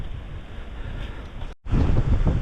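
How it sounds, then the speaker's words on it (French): Strong wind gusts across a hilltop at castle ruins, a loud roaring buffet on the microphone that briefly drops out and then returns harder, with no one speaking. "il y a un vent assez fort"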